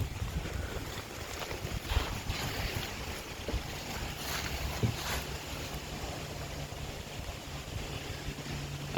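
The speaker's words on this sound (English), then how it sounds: "These trees make such a lovely sound with the wind going through them" Wind rushing through trees outside a fairy tale cottage, a steady broad whoosh that swells and eases gently, with a low rumble underneath and no voices.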